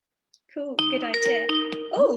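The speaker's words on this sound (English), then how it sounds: "that's a phone call from my boss" A phone ringtone for an incoming call from a boss chimes in a steady tonal pattern through a live business talk session, while a person speaks briefly over it.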